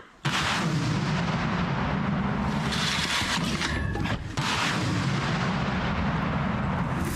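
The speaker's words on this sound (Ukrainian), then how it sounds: "Постріл!" A heavy artillery gun fires with a deep, powerful boom that rolls on and rumbles through the whole stretch, loud and close, with no talking.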